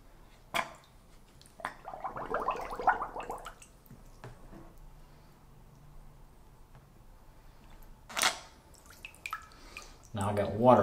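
Snuffer bottle for gold prospecting drawing up water, a close gurgling, bubbling slurp followed by scattered drips and splashes, with a brief burst of watery sucking toward the end.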